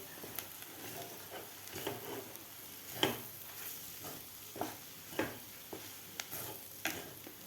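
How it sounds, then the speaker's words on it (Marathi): Pigeon peas stir-fried in a masala base give a faint, low sizzle with soft, irregular scraping and tapping of a spoon against the pan, with no talking. "आता हे तुरीचे दाणे आपले व्यवस्थित खालच्या मसाल्यामध्ये व्यवस्थित परतून घ्यायचे आहेत"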